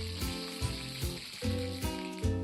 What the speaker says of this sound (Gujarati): તો ફાઇનલી આપણું તેલ ગરમ થઈ ગયું છે. એમાં આપણે અડધી ચમચી રાઈ નાખી દઈશું.